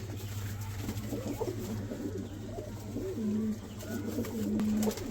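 A pair of Sambhal-breed pigeons, a large male and a smaller female, coo in a steady low rolling rhythm at close range, the calls swelling toward the end over a quiet room hum.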